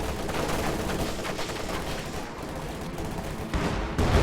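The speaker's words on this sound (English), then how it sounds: "High explosive barrage goes off on the church." A high explosive artillery barrage in a WWII strategy game pounds a church, delivered as a dense, continuous roar of overlapping blasts and crackling impacts. Louder bursts land near the end.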